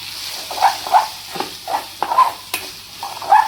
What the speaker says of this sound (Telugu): బాగా కలబెట్టి